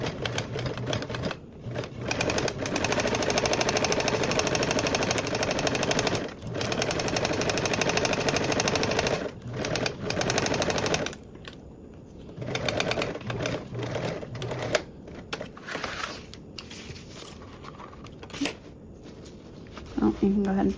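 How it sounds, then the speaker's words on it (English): Sewing machine stitching duffle bag panels at a 3/8 seam allowance, a long steady close run broken by brief stops, then shorter bursts later, with a voice talking over parts of it. "Now we'll sew with a 3/8 seam allowance."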